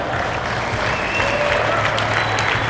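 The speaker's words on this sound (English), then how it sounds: "you don't know why people are clapping" An audience at a gala ceremony claps steadily and densely, a continuous wash of applause with a faint murmur of voices underneath.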